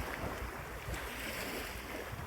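Baltic Sea waves at the Orzechowo dune on a calm day, a continuous broad rushing wash of surf with some wind rumble on the microphone, steady and fairly loud, no talking.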